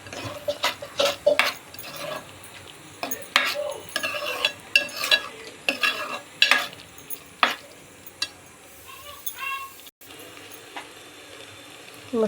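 Kolhapuri masala roasts in oil as a spoon scrapes and knocks against the pot in irregular strokes over a soft background sizzle, close and unaccompanied by speech.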